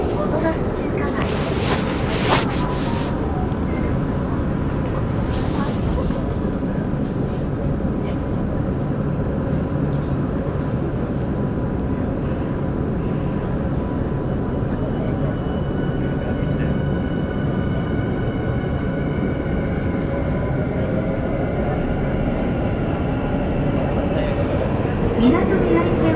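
A Minato Mirai Line train runs between Yokohama and Motomachi-Chukagai, with a continuous rumbling roar of wheels and motors heard from inside the car. A bright burst of sound comes early on, and the pitch shifts as the train changes speed.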